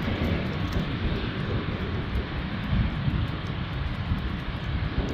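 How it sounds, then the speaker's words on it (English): Embraer 190 jet airliner at Canberra airport, a steady broadband engine roar that holds loud and continuous throughout with no talk over it. "Yeah, it's an Embraer."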